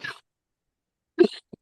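Two short coughs, one at the start and a sharper one a second later, with a small throat sound after; quiet in between.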